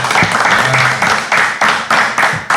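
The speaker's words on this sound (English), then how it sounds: "we gotta clap it up" A group of people claps loudly and continuously in dense, pulsing bursts, with voices calling out underneath the applause.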